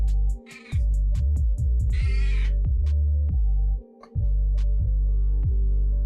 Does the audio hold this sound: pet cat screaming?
yes